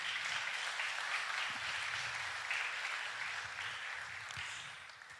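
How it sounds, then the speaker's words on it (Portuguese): A church congregation claps together in sustained, dense applause that fills the space evenly and tapers slightly toward the end, with no voices standing out. "Você pode aplaudir esse Deus maravilhoso?"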